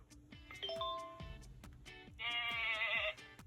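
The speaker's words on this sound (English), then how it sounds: "Goat." A toy book chime, then a bright goat bleat from a Paw Patrol interactive farm book, a short electronic wavering cry played close and alone after a button click.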